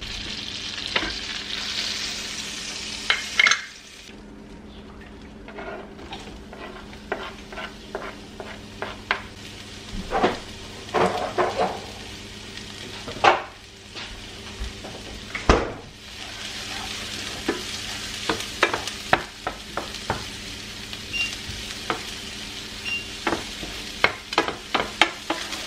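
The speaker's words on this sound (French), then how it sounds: "Je vais mettre, je mets un morceau de beurre comme ça. Et on va faire fondre les échalotes." Shallots softening in melted butter in a frying pan, a steady close sizzle with frequent clicks and scrapes of stirring, no talk.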